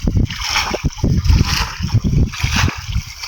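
Water scooped and bailed out by hand with a coconut shell while fishing on the Musi River: repeated close, loud splashes and sloshes in an uneven rhythm, with voices underneath.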